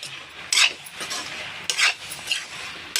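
A spoon stirs eggplant curry with salt in a pan, giving a few short scraping strokes against the metal over a faint sizzle, close and intermittent.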